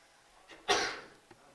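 A single sharp burst of breath sounds in a quiet room, a short close sneeze with a faint click at the end.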